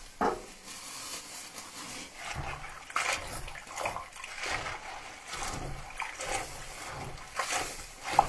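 Spinach is washed in water in a kitchen, with soft irregular splashing, trickling and sloshing as the leaves are swirled and handled over several seconds, fairly quiet.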